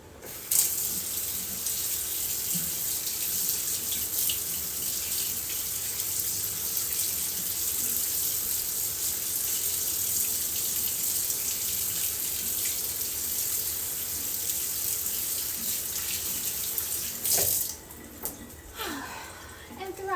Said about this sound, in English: I'm gonna rinse my hands of this because I cannot stand the feeling of meat between my fingers.